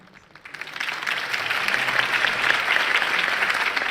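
Crowd applause after a campaign speech in the Batman Telltale video game, rising quickly from near silence into sustained, steady clapping from a large audience, moderately distant and even.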